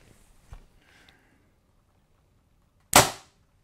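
A 2022 Bear Archery Whitetail Legend Pro compound bow set at 70 pounds fires a 400 grain arrow with a single sharp, loud snap, after a few faint clicks and handling noises.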